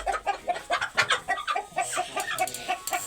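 A chicken clucks repeatedly inside a coop, close and fairly loud, with a steady run of short rhythmic clucks and a few higher squawks near the end.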